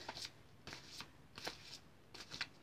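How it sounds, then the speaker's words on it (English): Playing cards shuffled with the left hand, giving soft, close riffling bursts that come about four times in a loose rhythm, each a quick papery flutter in an otherwise quiet room. "let me see if I can do the shuffling with the left hand"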